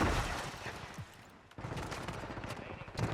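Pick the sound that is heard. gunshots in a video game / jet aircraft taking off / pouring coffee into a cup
gunshots in a video game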